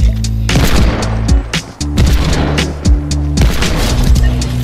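Hand cannon gunfire in the Fortnite video game (Chapter 5, Season 2): loud, heavy booming shots in a rapid, irregular burst, close and punchy, with no speech over them.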